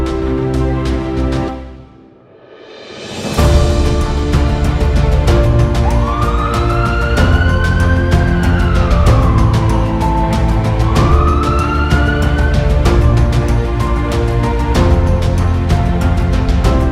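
An ambulance siren wails in rising and falling sweeps over a loud, steady wash of traffic-like noise, starting a few seconds in after a brief dip and then holding continuously.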